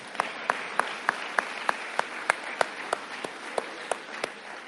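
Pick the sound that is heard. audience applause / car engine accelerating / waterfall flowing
audience applause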